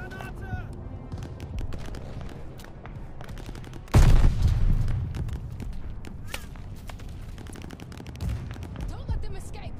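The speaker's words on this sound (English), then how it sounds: "Enemy machine gun" Enemy machine gun fire in Call of Duty Vanguard, rapid bursts of gunshots crackling through a battle with a loud blast near the middle, mixed with shouting voices and running footsteps.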